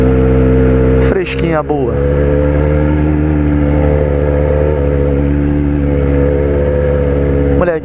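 Yamaha XJ6 motorcycle with an aftermarket exhaust baffle fitted, its engine running loud and steady with a brief rev spike early on, while someone talks over it.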